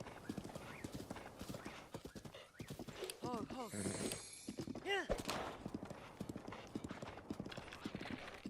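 Horse hooves clip-clop steadily in a video game, a quick rhythmic trotting with a whinny in the middle, while a person speaks over it.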